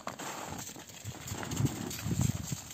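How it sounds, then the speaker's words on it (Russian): Goats on a snowy, frosty village farm trample toward feeding, their hooves giving soft irregular thuds on the ground under low background rustle, with no talk. "я слышу топот копыт"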